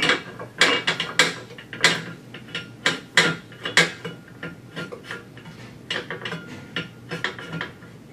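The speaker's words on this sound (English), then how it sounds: "One bottle of good calibration gas gets screwed onto the regulator." A bottle of calibration gas being screwed onto a regulator, giving a run of close, crisp metallic ticks and ratcheting clicks in an uneven rhythm, with no talking.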